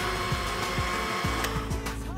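A kitchen blender whirs continuously and loudly, pureeing strawberries and cream for a chocolate strawberry mousse, the motor's steady drone broken only by slight rhythmic lurches as the contents swirl.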